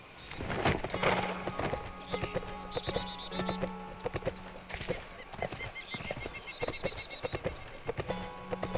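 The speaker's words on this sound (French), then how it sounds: "Hop, on va prendre le cheval." Hooves clip-clop steadily from a horse in the video game Sacred 2. Whinnies and game sound effects join them, with faint talk underneath.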